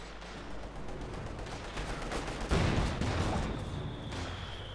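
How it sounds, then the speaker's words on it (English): Heavy artillery barrages and infantry gunfire with mortars rumble in a Company of Heroes 2 battle, a continuous dense crackle of distant shots swelling into a louder burst midway. "Just heavy artillery fire sort of constantly bringing down the centre from other infantry guns and mortars."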